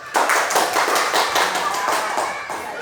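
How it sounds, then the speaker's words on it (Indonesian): A classroom group claps together in a steady, lively burst of applause close by, with voices mixed in. "sekarang kita kasih tepuk tangan dulu"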